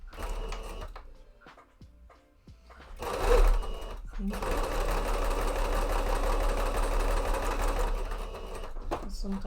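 A sewing machine starts with a brief whir, then runs steadily with a fast rhythmic mechanical chatter for several seconds, close and prominent, with a voice faintly present.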